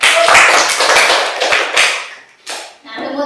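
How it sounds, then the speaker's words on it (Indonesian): A small group claps in a classroom lesson, a brief uneven patter of hands that fades and stops within about two seconds, followed by a short voice. "Iya, tepuk tangan."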